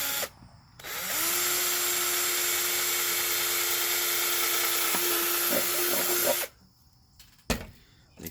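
A power drill with a 1/4 inch bit bores a bolt hole in a homemade bird feeder, spinning up with a whine that holds steady for about five seconds before stopping, followed by a couple of clunks.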